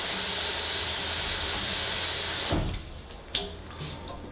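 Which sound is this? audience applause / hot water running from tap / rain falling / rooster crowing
hot water running from tap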